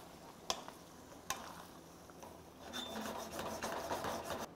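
Pork bulgogi is stir-fried in a pan with plenty of juices. A utensil scrapes and turns the meat in a low, continuous rasp and sizzle, with a couple of sharp clicks early on.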